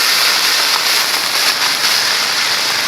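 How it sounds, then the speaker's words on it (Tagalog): Heavy rain falls outside during an evening of home cooking, a loud, dense, unbroken hiss for a few seconds; no thunder stands out, and nobody speaks. "ang lakas-lakas ng ulan, ang lakas ng kulog"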